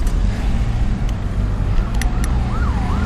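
A wailing ambulance siren rises and falls faintly over loud road and engine rumble, as if heard from inside a moving car.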